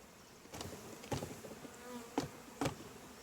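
Honey bees buzz faintly around an opened hive during a honey harvest, a soft continuous drone broken by a few sharp knocks and clicks, with no talking.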